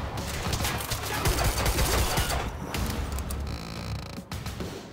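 Rapid gunfire from the video game Quantum Break: loud, close volleys that run together into a dense rattle and thin out slightly near the end.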